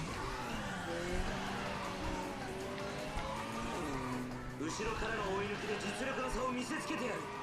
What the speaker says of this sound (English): Did that rev down sound actually came from his MR2?